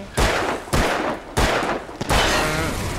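Gunfire in Alan Wake: four loud, sharp shots in an uneven rhythm roughly half a second apart, each followed by a ringing echo, close and alone.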